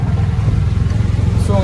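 An auto rickshaw carrying a group of friends drives along with its small engine running, a steady low rumbling drone with pulsing throb, close and fairly loud throughout.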